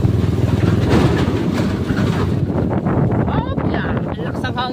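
Strong, cold wind in Tagaytay, Philippines, buffets the microphone in a continuous loud roar, with a voice briefly speaking near the end.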